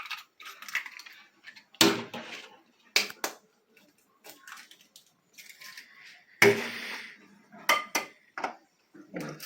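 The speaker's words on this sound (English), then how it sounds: "I always hit my eggs on each other" Eggs cracked by knocking them against each other in a home kitchen while making salmon patties, heard as sharp, close clicks and taps among clinking dishes and utensils, with several distinct impacts spread across the stretch.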